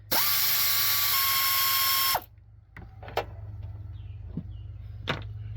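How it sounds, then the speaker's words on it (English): A power tool, such as a drill, whines loudly and steadily for about two seconds while backing bolts out of a Honda Odyssey J35A7 V6 engine. Scattered clicks and clinks of loose hardware follow. "So let's get these bolts out and see what all is needed."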